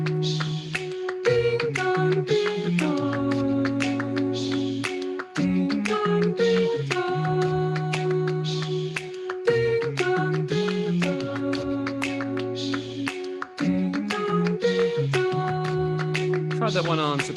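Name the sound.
sopranos singing the Westminster Quarters melody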